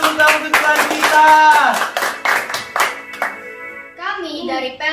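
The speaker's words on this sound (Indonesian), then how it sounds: "Berikan tepuk tangan untuk Tuhan kita." Rhythmic hand clapping in sharp, regular beats alongside children's voices at a church children's service, ending with someone speaking alone.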